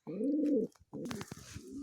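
Native pigeons cooing in a cage, two close, low throaty coos, the second trailing into soft shuffling and faint chirps.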